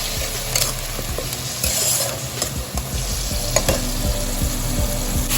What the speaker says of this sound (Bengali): পেঁয়াজটা হালকা ভাজা ভাজা হবে।